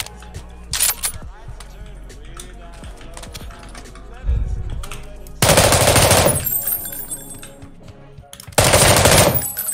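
Bursts of machine gun fire in the battle royale game PUBG, two long loud volleys near the end after a quieter stretch of clicks and a single muffled shot.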